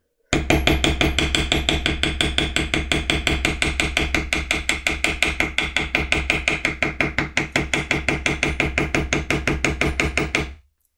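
A mallet strikes a leather matting tool over and over on a tooled leather book cover during poppy flower carving, giving a fast, steady train of loud, close taps that carries on without pause.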